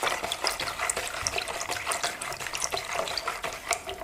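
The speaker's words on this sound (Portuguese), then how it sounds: "Agora vou misturar aqui o açúcar e a água até dissolver esse" Sugar being stirred into water in a bowl while making homemade bread dough, a close, continuous swishing and clinking of liquid with irregular small splashes, no talking.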